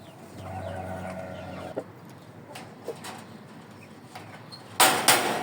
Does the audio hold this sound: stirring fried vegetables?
no